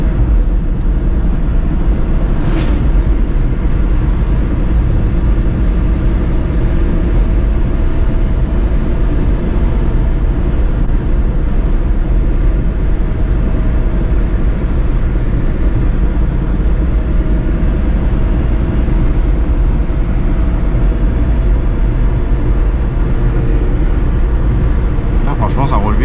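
A Fiat Panda 4x4 climbs a mountain road near Val d'Isère, its engine droning low and steady throughout with a continuous rumble, while people talk inside the car.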